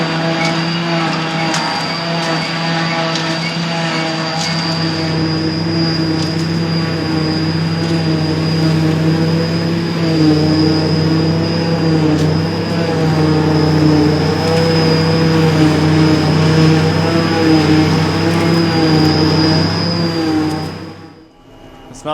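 A Fendt Vario tractor pulls a running JF forage harvester while filling a Smith trailer at silage time; a loud, steady mechanical drone with a high whine persists throughout, then cuts off abruptly at the end.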